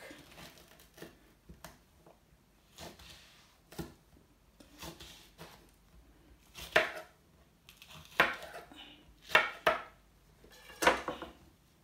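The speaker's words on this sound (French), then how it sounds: "du piment végétarien qu'on va couper" A knife chops vegetarian chili pepper on a cutting board: about a dozen irregular, crisp cuts, sparse at first and then louder and denser toward the end, with no talk.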